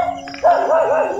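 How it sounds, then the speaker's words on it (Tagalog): A dog barks a few times nearby at an abandoned house being explored, the short yelps standing clear over faint background noise. "may mga aso pa kasi dito"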